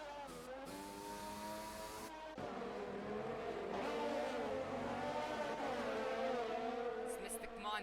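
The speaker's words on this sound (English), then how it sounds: "PTRS is still trying to regain control of his Mercedes W11" A Mercedes W11 Formula 1 car in a racing video game at Singapore, its high-pitched engine whine rising and falling as it accelerates, with commentary talking over it throughout.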